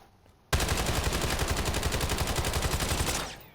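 Automatic gunfire in Black Ops 7: a sudden, loud sustained burst of rapid, evenly spaced shots lasting about three seconds, then cutting off, with no talking.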